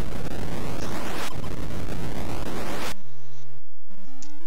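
Space mines blowing up in the 1984 arcade shooter Astro Chase, a loud roaring burst of noise with descending whistles that cuts off abruptly and gives way to sparse electronic game tones.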